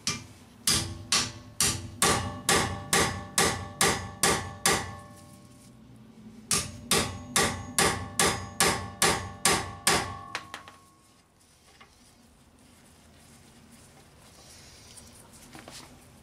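Impact screwdrivers are hammered to loosen Honda rotor screws, giving two bursts of sharp, evenly spaced metallic strikes, about ten blows each, close and loud with a brief pause between, then quiet shuffling.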